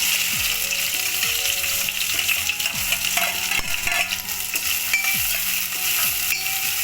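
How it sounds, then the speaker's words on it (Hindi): Chopped onion, fenugreek seeds and whole dried red chillies fry in smoking-hot oil for baingan bharta, a loud continuous sizzle broken by regular scraping stirs of the spoon against the pan. "अब हम इसको लाल होने तक भूनेंगे"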